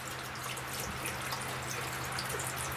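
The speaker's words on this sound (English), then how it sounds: "It sounds like a lot of water is coming in to the tiny house." A dense patter of water leaking into a tiny house drips and trickles continuously over a low hum, fairly quiet and steady throughout.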